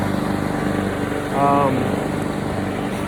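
A lawn mower engine drones steadily in the background at moderate distance, a continuous buzzing hum that holds across the whole moment.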